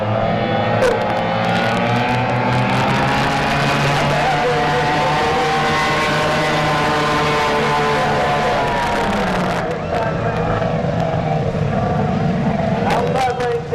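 Racing boat engine roaring steadily at close range through an 800-foot sprint on the water, its harmonic whine bending in pitch as the craft speeds past, loud and continuous, with crowd noise underneath.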